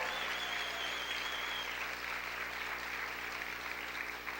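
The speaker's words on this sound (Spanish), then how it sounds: "Aplaude fuerte al Rey en esta hora." Church congregation applauding during a sermon, a steady dense round of clapping held at an even level throughout, with a faint voice briefly underneath.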